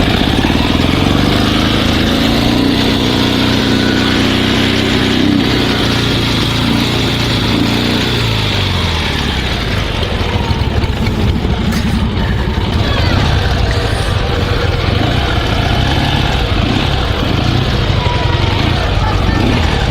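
A Dnepr sidecar motorcycle engine running steadily after a breakdown repair, a continuous close rumble with a shifting tone early on.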